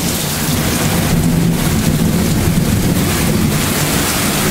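Heavy rain pours down in a dense, loud, continuous roar during a downpour, steady and close with no talking.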